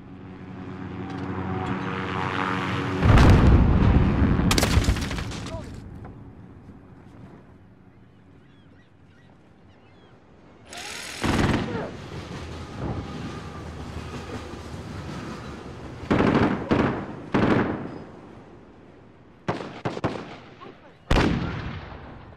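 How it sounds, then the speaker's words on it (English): Grenade blasts and gunfire in Call of Duty: Modern Warfare multiplayer: a heavy explosion early, then quieter rumble, followed by several sharp bursts of shots and bangs near the end, with game voice callouts. "Throwing grenade!"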